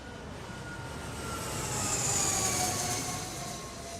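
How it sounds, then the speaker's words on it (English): A private jet flies past, its distant engine roar swelling gently to a peak and fading again, steady and fairly faint. "Vonnie hops on a private jet headed to Los Angeles"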